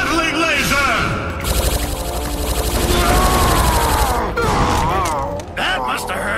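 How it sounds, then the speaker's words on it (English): A cartoon Gatling laser fires in a rapid buzzing stream of zaps with warbling, sweeping electronic tones, loud and continuous for several seconds before breaking into scattered blasts, with a voice heard briefly. "Gatling laser!"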